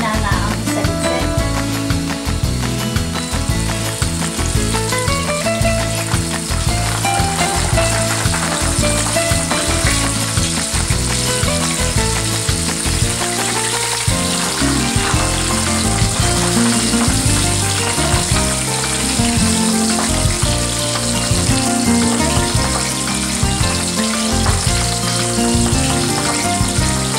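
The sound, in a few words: fish frying in a covered pan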